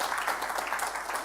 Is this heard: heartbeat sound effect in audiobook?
no